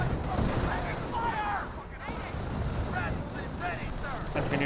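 Auto cannons fire in the Company of Heroes video game during a battle against an M1AT gun, with repeated rapid bursts and booms over a constant roar of battlefield noise.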